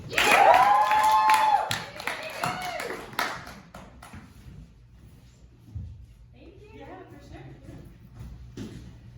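An audience applauds and cheers in a small standup comedy room as a comedian comes to the stage. The clapping is loud at the start, mixed with a whooping voice, then thins and fades under quieter room noise.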